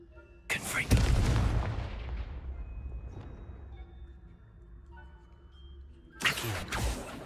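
Two Confringo blasting spell explosions in Hogwarts Legacy: a heavy boom with a long rumbling decay, a quiet stretch with faint ringing tones, then a second sharp blast near the end.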